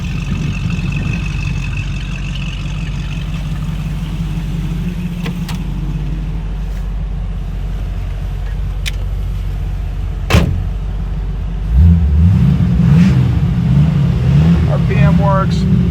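A 1930s all-metal sedan delivery hot rod drives along with a steady, loud engine drone and road rumble, then a deeper throaty burst near the end, with speech over it.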